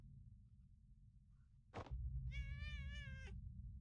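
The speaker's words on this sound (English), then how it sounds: "You made the cat cry." A cat meows in a drawn-out, wavering cry of about a second, loud and close, following a sharp short thump, with a steady low hum beneath.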